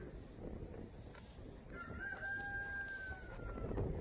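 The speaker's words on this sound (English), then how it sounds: "can you do something about that stupid bird?" A rooster crows once in a long drawn-out call, faint and somewhat distant over low background rumble, with no talk.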